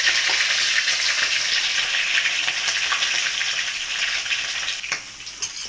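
Washed, cleaned dried fish (shutki) frying in hot oil on a low gas flame, a loud, close, continuous sizzle and crackle that eases slightly toward the end.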